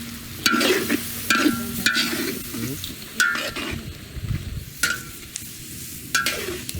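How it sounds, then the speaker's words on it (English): Pork cooking in a giant wok over an open fire in a Philippine village, with steady sizzling broken by repeated scraping stir strokes that come at intervals. "The pork is going into a giant wok over fire, and that's gonna cook"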